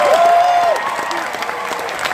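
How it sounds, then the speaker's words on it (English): A crowd applauds at a motivational rally in New York City, dense continuous clapping with a voice rising over it near the start, then steady applause carrying on through the rest. "Come on, keep clapping."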